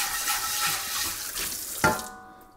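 A pan is rinsed under a running kitchen tap, water pouring steadily and loudly before cutting off with a final splash and clink near the end.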